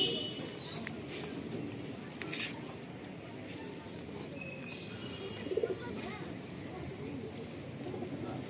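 Two male pigeons cooing softly over a steady murmur of background voices, with a few faint chirps and a brief brighter call near the middle.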